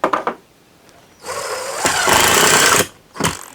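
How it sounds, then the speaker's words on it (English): A power drill bores holes into a wall for a mini split wall bracket, running in one loud sustained whine of about a second and a half, with brief clicks and knocks before and after it and no talk. "Drill one right there as well for that."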